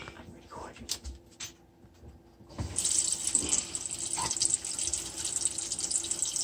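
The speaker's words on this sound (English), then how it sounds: "Turn the water on." Kitchen sink faucet on a newly installed countertop, leaking at its base, turned on after a quiet moment; a steady hiss of running water fills the second half, with light talk and handling sounds early on.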